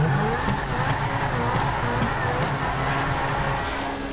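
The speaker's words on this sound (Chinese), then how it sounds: "我们来实测这个高速行驶" A Lamborghini supercar in GTA5 roars at high speed, a loud, sustained engine drone with a steady, slightly wavering pitch that holds without a break.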